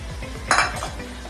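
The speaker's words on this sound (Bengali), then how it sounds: "আর তারপর অল্প কিছুক্ষণ আমরা নেড়ে নেড়ে আদা রসুনটাকে ভাজতে থাকবো।" Ginger-garlic paste frying with lightly browned onions in a pan for a Bengali chicken curry, stirred with a utensil: a low sizzle runs throughout, broken by a short, loud scrape and clatter of the spoon against the pan midway.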